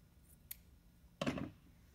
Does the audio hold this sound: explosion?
no